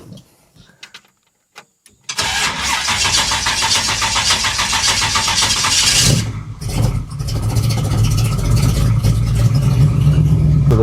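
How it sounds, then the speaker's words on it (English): After a couple of seconds of quiet, a classic muscle car engine starts and settles into a loud, rough idle with a rapid ticking clatter of loud valves throughout. "if it sounds like it's knocking, it's not. It just has loud valves."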